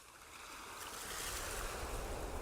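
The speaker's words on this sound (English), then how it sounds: "The ship sails for many weeks." Ocean waves wash around a sailing ship at sea, a steady broadband rush of surf and wind that swells slightly louder toward the end, with no voices.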